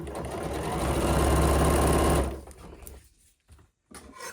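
A sewing machine runs in one steady, loud burst for about two seconds while stitching close to a fabric edge for Regency and Romantic era dressmaking, then stops, leaving faint scattered handling noises.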